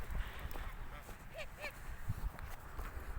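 A few honking goose calls rise briefly in the middle, moderately distant over faint outdoor background noise and shuffling.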